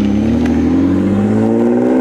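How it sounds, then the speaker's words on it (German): A Mini car's engine hums steadily from inside the moving car, a continuous low drone with harmonics rising slightly as it drives on, no talking. "wir fahren mit Mini"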